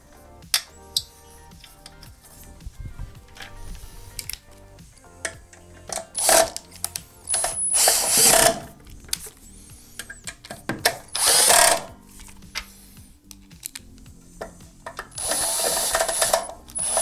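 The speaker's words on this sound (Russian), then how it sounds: "Потом отверткой протяну, чтобы не сорвать." A screwdriver tightens screws on a shelf holder, with ratcheting clicks, metallic clinks and several bursts of whirring, close and intermittent, separated by quiet handling noises.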